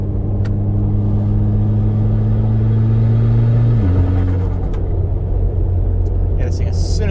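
A Mitsubishi Evo X with a rebuilt SST dual-clutch transmission accelerating, a loud steady engine drone heard from inside the car that drops in pitch as a paddle-triggered upshift goes through smoothly.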